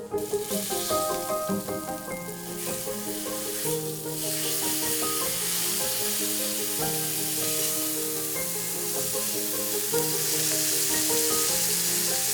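A steak sizzles steadily in a hot pan just after being flipped, a dense hissing fry that carries on under prominent background music throughout.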